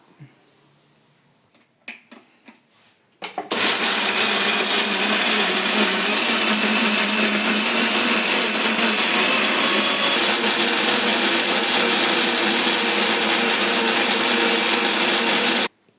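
Blender grinding cotton seeds soaked eight hours, a loud steady whir running continuously for about twelve seconds after a few brief clicks and taps at the start.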